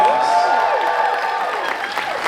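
A convention crowd at a MegaCon panel cheers and whoops with rising whistle-like shouts over a steady roar of noise, loud and sustained throughout.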